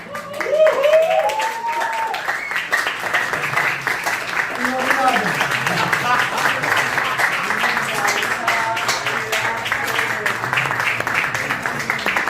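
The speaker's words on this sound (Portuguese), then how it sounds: "Bate palmas. Palmas." Live presentation audience clapping hands in a steady, dense patter that runs the whole stretch, with voices and murmurs mixed in underneath.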